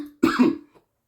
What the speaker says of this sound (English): I'm sick, so I'm going to be coughing here and there